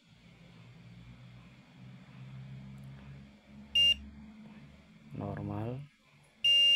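Short electronic beeps from a multimeter continuity test on a phone circuit board near the CPU, two brief tonal bleeps separated by a few seconds, over low background hum, with someone talking between them.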